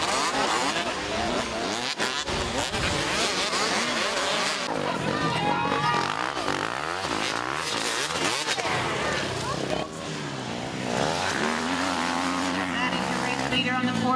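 Motocross motorcycles race around a dirt track at a championship event in Kenya, their engines buzzing and revving in overlapping waves at mid-distance while a person talks over them throughout.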